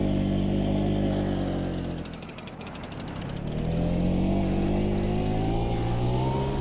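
A cafe racer style motorcycle in Farming Simulator 22 runs with a steady, droning engine hum that dips briefly as it is throttled back, then swells again to a constant, loud mid-pitched rumble.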